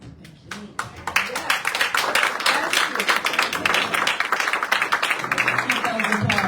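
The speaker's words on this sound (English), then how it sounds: "Keep those applause going." An audience at a human and civil rights town hall meeting breaks into sustained, loud applause, with dense rapid clapping that carries on steadily from near the start.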